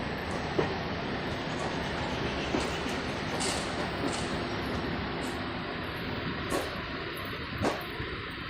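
A DMU passenger train runs on the Hajipur to Vaishali line in Bihar, heard from on board as a steady rumbling roar with faint periodic clicks and clacks of wheels passing rail joints.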